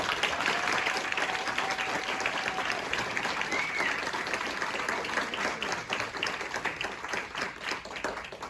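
Audience at the Idaho State Capitol in Boise applauding legislators, a sustained, dense crowd clapping that stays strong for several seconds and thins slightly toward the end.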